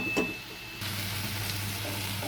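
Onions frying in a pan for a Bengali chichinga (snake gourd) and egg curry, with a steady broadband sizzle that grows louder partway through and the scrape of stirring, close up and with no talk.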